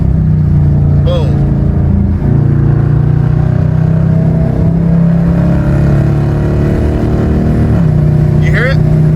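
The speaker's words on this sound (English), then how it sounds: "You hear it? See how we're upshifting?" A car with paddle shifters revs up hard, its engine note climbing and then dropping sharply at each upshift, loud and close inside the cabin with someone talking over it.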